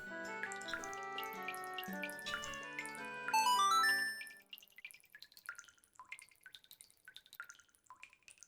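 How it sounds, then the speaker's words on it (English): A string of bright, plinking water-droplet notes played by a Deku in the video game Majora's Mask, starting as a busy cascade, then thinning into sparse, quiet, evenly scattered drips. "we just got tiny little quiet water drops"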